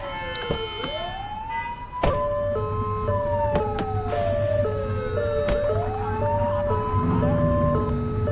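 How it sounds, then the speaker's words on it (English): A police siren in the PS5 game The Precinct wails in rising and falling sweeps, alternating with a two-tone yelp, loud and continuous over steady engine hum and a couple of sharp thuds. "Turn that siren off."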